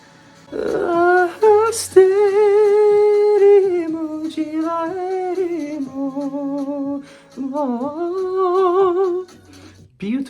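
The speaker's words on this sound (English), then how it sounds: "And the clarinet comes in." A clarinet plays a lyrical, ornamented solo line in a Greek Eurovision 2025 ballad, sustained sliding notes rising and falling in phrases with short pauses, clear and up front.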